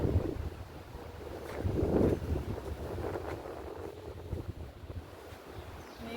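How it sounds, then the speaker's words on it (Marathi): Broadband wash of sea waves on a beach with wind rushing across the microphone, a fuller surge around the second mark, steady and fairly close, no voices. "आवाज ऐका समुद्राचा"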